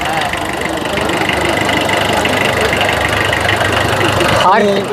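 A vintage Fiat car at a classic car expo in Chennai idles with a loud, steady engine rumble and a slightly knocking throb throughout, while people talk nearby.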